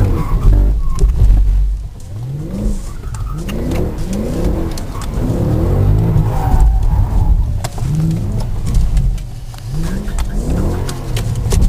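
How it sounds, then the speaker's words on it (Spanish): Mercedes-Benz E63 AMG driving hard, its engine revving up and dropping back repeatedly through gear changes, loud and close throughout with steady road noise. "Frenada."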